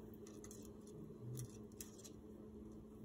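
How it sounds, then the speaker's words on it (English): A single quick snip of scissors through ribbon amid light rustling handling sounds, close and fairly quiet. "get my scissors,"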